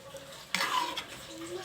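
Cabbage sautéed with Century Tuna being stirred in a pan, a quiet scrape and clatter that rises suddenly partway through, then settles into soft shuffling with faint sizzle, heard close and alone.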